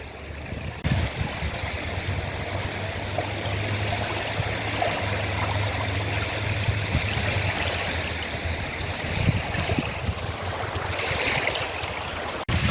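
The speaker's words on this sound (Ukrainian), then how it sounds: "І зовсім інші вже звуки річки." An outdoor river flows in a steady, continuous broadband rush with a light breeze, its watery noise even and unbroken throughout, with no voices over it.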